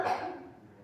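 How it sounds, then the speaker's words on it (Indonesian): A single short, dry cough from a nearby person, a brief harsh burst that fades within a second. "Batuk kering kan?"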